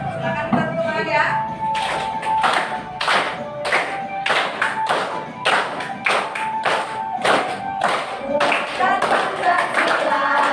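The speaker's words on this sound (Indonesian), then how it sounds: "Silakan kita tepuk tangan ya." A group claps together in a steady rhythmic beat at a school event, accompanying the singing of the Pancasila student profile song, with voices singing along throughout and the claps repeating evenly and close.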